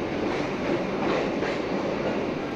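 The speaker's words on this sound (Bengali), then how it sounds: "আমাদের ট্রেন কলকাতা স্টেশন থেকে ছেড়ে দিল, ছেড়ে দিয়ে যাচ্ছে এবার টালা স্টেশনের উদ্দেশ্যে।" A train pulls out of Kolkata station heading toward Tala station, its wheels rumbling and clattering steadily and close, a continuous dense rolling noise with no voices.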